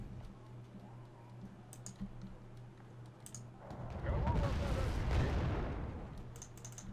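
Artillery shells strike in the real-time strategy game Wargame: Red Dragon, a dense rumbling burst of impacts swelling midway and fading, over ambient battlefield noise with scattered clicks before it.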